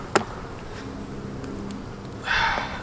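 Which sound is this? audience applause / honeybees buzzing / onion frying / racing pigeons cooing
honeybees buzzing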